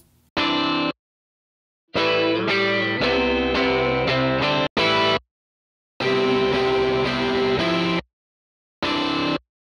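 Electric guitar in open tuning runs through an Archetype amp plugin, distorted chords played in separate bursts with hard silent gaps between them, loud and close with a chorus-like shimmer.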